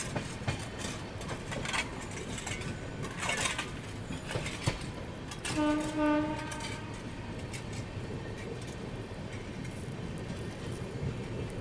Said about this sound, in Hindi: फिलहाल अंडाल स्टेशन अपनी ट्रेन पहुँच चुकी है।